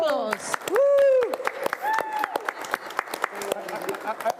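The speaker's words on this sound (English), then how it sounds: "A round of applause." Applause from an audience at a live event in Manchester, a scattered patter of clapping under shouted cheers and a woo, with voices talking over it throughout.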